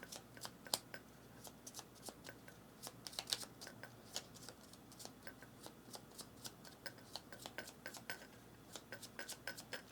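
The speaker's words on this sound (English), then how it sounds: "So a moment while we shuffle." Cards for a solo board game are shuffled by hand, a long run of quick crisp riffles and taps, close and quiet, with no talking.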